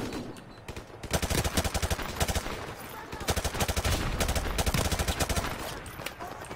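Automatic gunfire in the video game Call of Duty: Modern Warfare Remastered, shooting through a wall, comes in rapid loud bursts of rattling shots with brief pauses between them.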